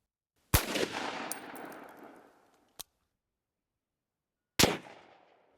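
Two loud, sharp gunshots from an unsuppressed Smith & Wesson 300 Whisper firing supersonic loads, the first with a long decaying echo, a brief click between, the second a few seconds later; no talking.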